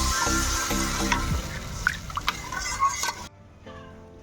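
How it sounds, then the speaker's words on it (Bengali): Water poured into a sizzling pan of fried fish curry masala for doi katla, with bubbling, stirring and spattering sounds close up before the hiss suddenly drops away to quiet. "এবার আমি জল দিয়ে দিচ্ছি পরিমাণ মতো"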